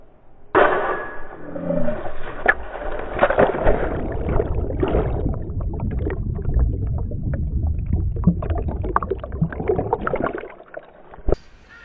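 Dean Robert Dooley plunges into a dunk tank while wearing a GoPro, a loud close splash followed by sustained underwater churning, rumbling and bubbling that dies away abruptly near the end.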